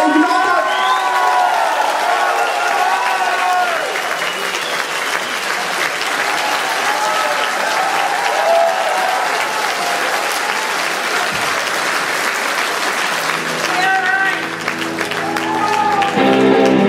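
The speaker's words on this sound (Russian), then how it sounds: "Давайте поаплодируем Слава!" Sustained applause with cheering from a concert audience at a blues show in a large Moscow hall, loud and steady throughout, with the crowd roar swelling near the end as instruments begin to sound.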